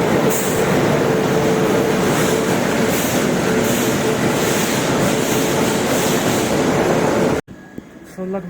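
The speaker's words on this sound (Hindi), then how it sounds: "अब हमारी ट्रेन चल पड़ी है।" Muri Express passenger train rolling along, heard from inside as a loud, continuous rumble with rhythmic wheel clatter that cuts off abruptly near the end, leaving quieter cabin sounds.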